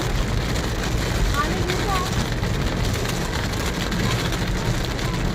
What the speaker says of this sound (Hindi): देखिए मूसलाधार बारिश जो है शुरू हो गई है